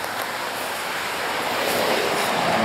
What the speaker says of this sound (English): I hear a lot of rumbling. There's a lot of blustery wind.